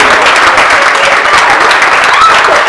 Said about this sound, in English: Let's give him a big round of applause, Andy Finn.